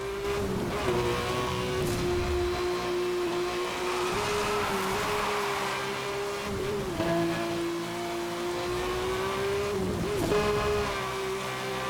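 A race car engine in the video game Need for Speed: Hot Pursuit Remastered drones steadily at high revs, its pitch dipping briefly and recovering a couple of times, with no voices.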